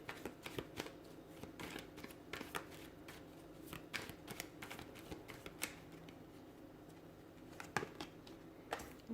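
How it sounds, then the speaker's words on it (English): Rapid crisp riffling and tapping of tarot cards being shuffled, repeated in quick bursts throughout, close by with no talking. "Let's give the cards a shuffle and see what's coming in."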